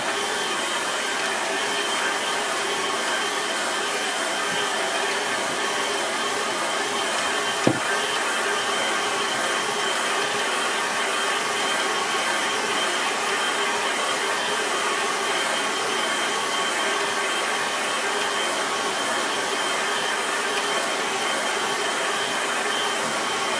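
Hair dryer blowing steadily on a watercolour painting, a loud continuous whooshing drone held close for over twenty seconds with one faint click partway through.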